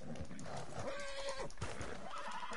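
A horse in the video game Red Dead Redemption II lets out a whinny over game background noise, a single drawn-out neigh near the middle.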